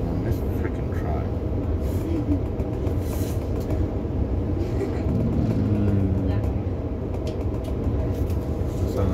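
Steady low rumble of a train interior, a continuous droning mechanical noise with faint rattles, while people talk over it.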